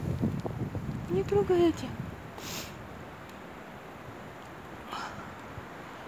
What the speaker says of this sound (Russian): Знаешь, сегодня какой ветер сильный.